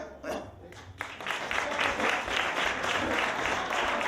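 Steady audience applause at a French-language comedy show, starting after a brief voice and swelling into a dense, continuous round of clapping that holds at an even level to the end.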